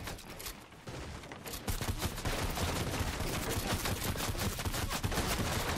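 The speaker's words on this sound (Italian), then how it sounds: "mi stanno sparando da tutte le parti" Rapid gunfire in the video game Fortnite, sustained automatic bursts and overlapping shots coming from several directions, loud and nearly continuous, a brief lull near the start before the shooting grows heavier.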